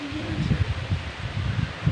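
Steady wind gusting with soft rustling of leaves, a continuous breezy wash with low buffeting rumbles, no voices.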